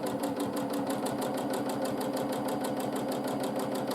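A domestic sewing machine stitches free-motion quilting arches, its needle running in a fast, steady, even chatter that stays close and continuous with no pauses.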